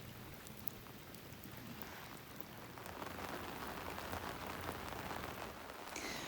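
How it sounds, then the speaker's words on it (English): Light rain patters steadily on surfaces during a brief shower at a Priest Lake resort cabin in North Idaho, a dense even hiss that grows slightly heavier partway through, with no voices. "they had like a brief little rain shower"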